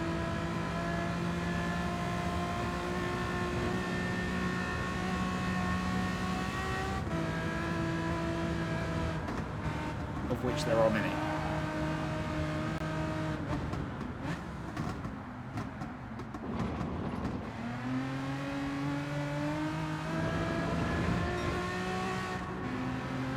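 Racing cars on racing tyres in Gran Turismo 7 drone with strong, tonal engine notes that rise and fall through gear changes and corners, loud and continuous, with a brief spoken line partway through.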